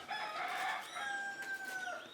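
A single rooster crows nearby, a loud drawn-out call with a strained tail at the end.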